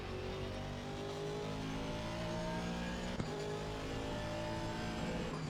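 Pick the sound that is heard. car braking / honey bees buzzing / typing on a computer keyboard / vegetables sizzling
car braking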